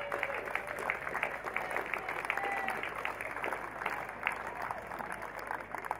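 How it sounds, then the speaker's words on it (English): Grand final audience applauding an organising committee at a football awards event in Brisbane: a dense wash of crowd clapping heard from a distance, steady and sustained, with faint murmuring voices mixed in. "So to Glenn Brown and his committee, ladies and gentlemen, a big round of applause."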